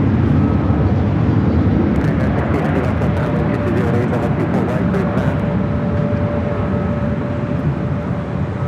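Airbus A321 airliner departing Los Angeles airport for JFK, a loud, continuous jet engine rumble with a faint whine held steady throughout, heard from nearby with no break.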